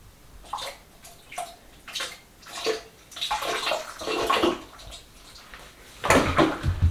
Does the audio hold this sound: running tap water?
yes